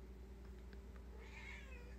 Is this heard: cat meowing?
yes